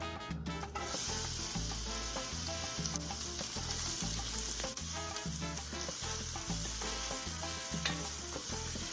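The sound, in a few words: onions frying with flank steak in oil on high heat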